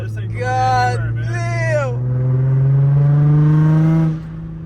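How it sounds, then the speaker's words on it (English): A Nissan 350Z engine revs up, its deep droning note climbing steadily and holding loud for a couple of seconds before cutting off, with people talking over the start. "Car sounds beautiful."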